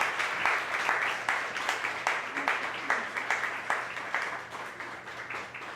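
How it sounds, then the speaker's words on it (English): Audience at a Latino cultural heritage event gives a dense, sustained round of applause, clapping loud and continuous for several seconds with some crowd voices mixed in. "Let's please give her another huge round of applause for tonight."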